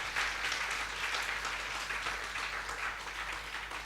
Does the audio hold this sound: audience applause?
yes